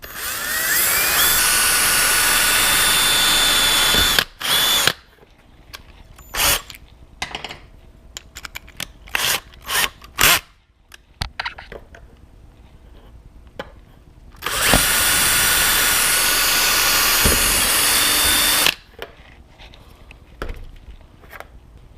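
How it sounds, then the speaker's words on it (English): A power drill whines loudly in two long sustained bursts while drilling a hole in an RC390 motorcycle race fairing, separated by quieter clicks and tool handling noises. "Just let the drill do the work for you."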